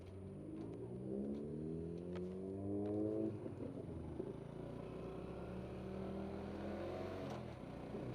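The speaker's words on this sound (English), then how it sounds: "Sporty, noisy car." A sporty, noisy car drives past, its engine note climbing and rising in pitch for the first few seconds before settling into a steady, fairly quiet drone with no talk.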